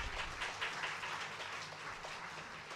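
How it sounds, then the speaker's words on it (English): A crowd gives faint, dense, continuous applause for a college director at a foundation day ceremony, heard from a distance and unbroken throughout. "A big round of applause for sir."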